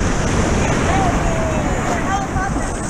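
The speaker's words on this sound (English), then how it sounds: "There's some big waves." Big ocean waves at Carova, North Carolina, during an open water swim: a constant loud rush of surf and water with heavy wind buffeting the microphone, close and unbroken.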